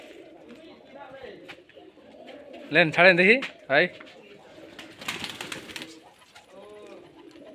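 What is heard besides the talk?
Rajshahi Giribaz tumbler pigeons cooing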